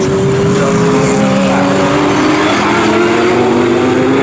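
GT3 and GTB race cars circulate at Snetterton in a GT Cup Championship race, a loud, steady engine drone with layered harmonic tones held throughout, several cars running close together, no talk.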